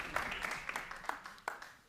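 A small audience at a French conférence gesticulée on male-alpha imposture gives sparse, scattered claps, individual hand slaps popping out irregularly over a thin murmur, more polite patter than a full ovation.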